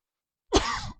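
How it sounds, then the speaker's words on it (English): A single short, harsh cough or throat clear bursts out close to the microphone after a moment of silence, then quickly trails off. "I'm suppressing a cough here."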